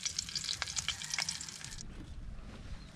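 Sweet potato leaves sautéing in a pan, a bright crackling sizzle with quick stirring clicks that suddenly dies down to a soft low simmer; close, no talking.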